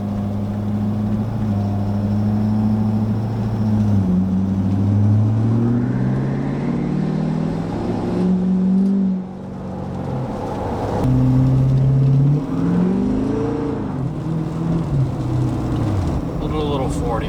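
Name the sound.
6.7 Powerstroke diesel truck accelerating at half throttle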